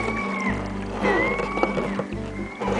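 Someone rows a small boat in Laura Cove, Desolation Sound, with oars splashing and dipping in a steady rhythm against a low hum and gurgling water nearby.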